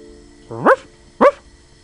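A dog gives two short, close barks about half a second apart, loud and alone against a quiet background.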